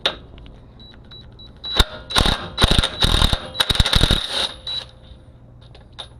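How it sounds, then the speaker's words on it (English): A ratchet working 1/2 inch bolts out of a truck's DEF tank shield, a burst of rapid clicking and clattering metal noises near the middle, loud and up close. "these 3 bolts under here holding the shield on are a 1/2 inch, and let's see if we can get these out"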